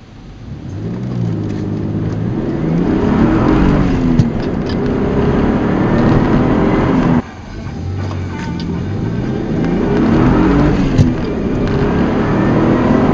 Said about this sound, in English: Just in case you're curious what the 0 to 60 feels like on this car.